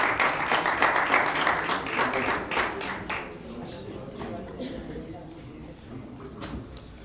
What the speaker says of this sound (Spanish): Tiene aplauso.